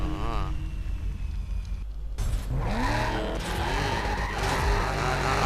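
A Chevrolet race car in a driving video game drives and skids, with engine drone and tire squeal rising after a brief dropout near the two-second mark, continuous and fairly loud, while someone talks over it.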